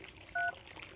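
Telephone keypad tones, a short two-tone DTMF beep pair dialed once, standing out clearly over a quiet room background with no talking.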